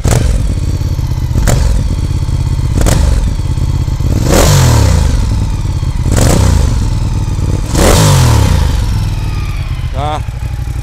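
A Ducati Diavel Red Carbon two-cylinder motorcycle engine is blipped hard about five times in a steady rhythm, each loud, close rev rising and falling back to a rumbling idle.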